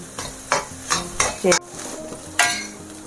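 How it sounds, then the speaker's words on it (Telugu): Egg noodles being stirred in a large frying pan, with a spatula scraping and tossing in several quick strokes over a steady sizzle, close and fairly loud with no talking. "నూడిల్స్కి ఎప్పుడు ఇలా పెద్ద బాండీ అయితేనే బాగా కలపడానికి ఈజీగా ఉంటాయి"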